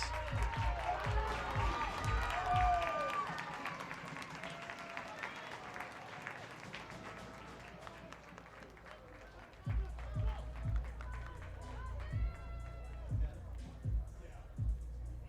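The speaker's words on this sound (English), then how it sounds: "He gets a round of applause as he is able to walk off on his own power." Spectators at a college men's soccer match applaud as a player walks off the field, with scattered clapping and crowd noise under continuous commentary, swelling again near the end.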